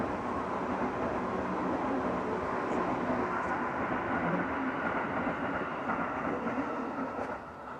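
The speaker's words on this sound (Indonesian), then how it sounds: "ada kereta lewat" A passing train rumbles steadily at a middle distance, a continuous broadband roar with faint rhythmic clatter that holds level throughout and eases slightly at the very end, with no talk over it.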